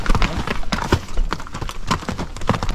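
Hooves of a ranch horse clip-clop steadily along a mountain trail, close and loud, in a continuous uneven walking rhythm.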